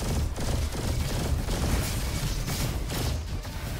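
A Pulsar Rifle fires sticky bombs in the shooter game Roboquest, a rapid, dense barrage of energy shots and bursting impacts that carries on without a break, loud and close, with no voices over it.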